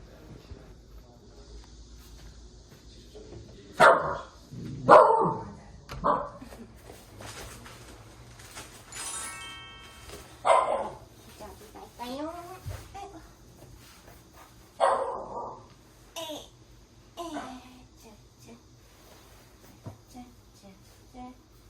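A dog in a home barks in scattered bursts with a few yips and whimpers, close and fairly loud, while people speak quietly between the barks.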